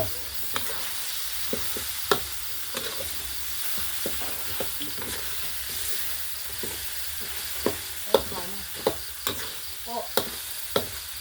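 Field rat meat stir-fries in a pan, home style, with a constant sizzle and irregular sharp clanks and scrapes of the spatula striking the pan, close and loud.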